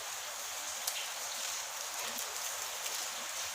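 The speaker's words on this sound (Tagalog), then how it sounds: "kung naririnig nyo, ang ingay kasi naulan pa din hanggang ngayon" Steady rain hisses continuously, with a few louder drops tapping nearby over the constant wash of noise.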